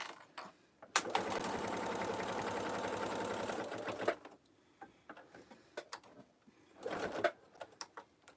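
A sewing machine bastes zipper tape onto the exterior of an Oxbow tote bag, with one steady rapid whirring run of about three seconds, then short clicks and handling noises and a brief second burst of stitching near the end.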